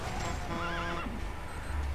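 D-Horse, the rider's horse in the video game Metal Gear Solid 5, whinnies once in a rising and falling neigh with faint hoof clip-clops around it, heard alone.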